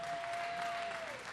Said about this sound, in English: another round of applause for Booker High Visual